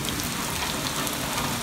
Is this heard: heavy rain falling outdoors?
yes